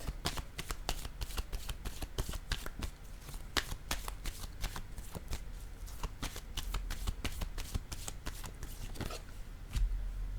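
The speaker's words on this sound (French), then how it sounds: "Je vais piger une autre carte." Playing cards being drawn and shuffled up close, a rapid stream of crisp flicks and riffles at low volume.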